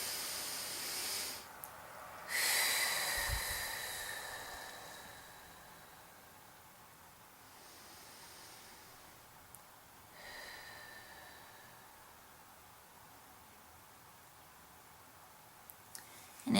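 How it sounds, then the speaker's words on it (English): Slow, deep breaths drawn in and let out, soft airy hissing inhales and exhales spaced several seconds apart, close and quiet in a still room with no talk. "take a couple deep breaths, and I just breathe in as if I'm breathing into my heart and then out my heart"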